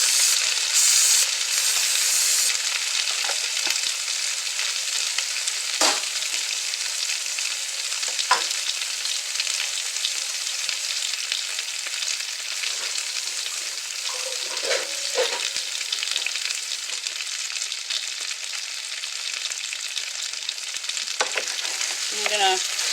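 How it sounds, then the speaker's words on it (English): Potatoes frying in a pan for hash browns, a steady close sizzle and crackle that carries on unbroken, with occasional scrapes and stirring knocks. "Fry the potatoes with a little bit of the pan."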